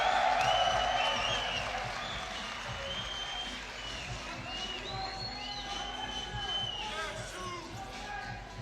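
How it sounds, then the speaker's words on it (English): A basketball crowd roars at a FIBA 3x3 game in Ulaanbaatar, a steady loud wash of cheering and applause with scattered whoops throughout, while a commentator talks over it. "And this crowd is roaring."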